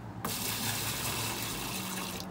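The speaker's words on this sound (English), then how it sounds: "Throwing a dash of washer fluid in all my buckets now." Washer fluid poured into a cleaning bucket, a steady close gush of liquid that starts abruptly and runs continuously for a couple of seconds before cutting off, with no talking.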